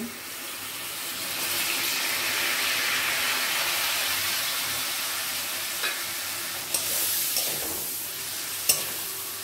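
Grated tomato fries in oil with sautéed onion in a pan for a homemade fish biryani, a steady close sizzle across the whole stretch with a few sharp utensil taps near the end.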